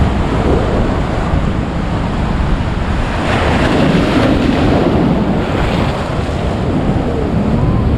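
Big waves surge along a seawall at a high-tide ocean inlet, a steady loud wash of surf with heavy wind buffeting the microphone throughout, swelling slightly midway.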